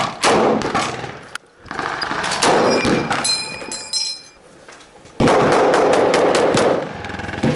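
An MG2 machine gun fires during an Operation Cobra battle re-enactment, with loud, close, sustained bursts broken by short pauses, then a long heavy burst near the end.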